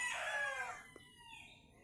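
A hen gives one faint, distant, drawn-out call in the morning that fades after a second, leaving quiet background.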